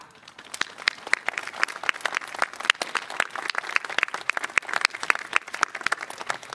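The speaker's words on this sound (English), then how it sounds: "Can you please give a round of applause for your family, your parents, and teachers who have brought you to this point in your life?" A high school graduation audience gives a round of applause, scattered and moderately distant clapping with distinct individual claps standing out from the crowd, fairly soft and steady throughout.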